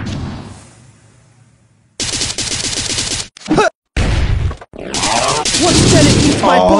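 Dense, loud bursts of video game gunfire that come in long roaring stretches broken by short gaps, with a voice calling out among the shots.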